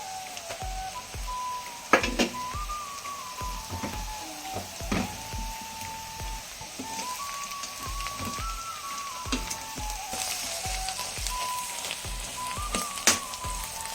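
Ground garlic fries in a pan for a homemade garlic pickle, giving a steady hissing sizzle broken by scraping stirs and sharp clicks, with a faint whining tone running underneath.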